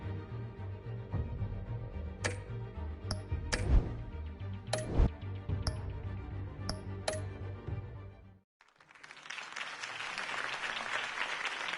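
Campaign-rally crowd applause in the Batman Telltale video game, for Harvey Dent's speech, rising as a dense, steady roar after a quiet gap that follows a stretch of music with sharp ticking hits.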